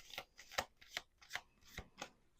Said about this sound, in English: when she shuffles her cards, I don't even know how to explain it. I find it comforting.